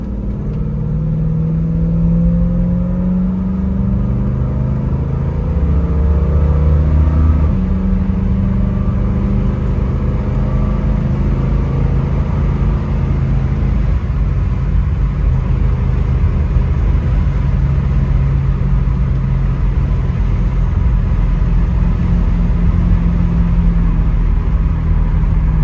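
A 1966 Ford Mustang Fastback accelerates hard from inside the car, its engine note climbing through gear changes with a steady loud rumble and road noise and no talking.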